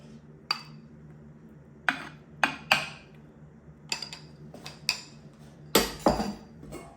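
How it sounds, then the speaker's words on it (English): A spoon scoops Greek-style fava purée onto a plate, making a series of sharp, close clinks and taps spaced irregularly against a quiet background. "I'm just going to place a couple of spoonfuls onto the plate"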